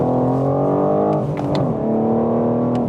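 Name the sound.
2021 BMW M4 raspy inline six engine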